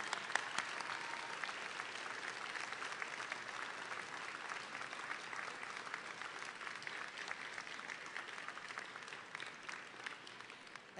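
Family and friends at a community college commencement ceremony applaud continuously, a steady wash of clapping from a large audience that carries on for several seconds, fairly distant and soft.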